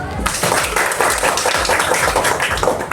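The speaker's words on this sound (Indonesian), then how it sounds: "tepuk tangan dulu" A classroom of elementary school children clapping together in a dense, rhythmic burst of hand claps that carries on steadily and loudly throughout.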